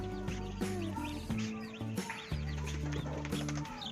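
Newly hatched chicks peep in high, busy chirps over the lower clucking of hens, close up and continuous, with no talk.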